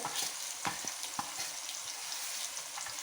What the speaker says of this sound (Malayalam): നന്നായിട്ട് മൂപ്പിച്ചെടുക്കാം നമുക്ക്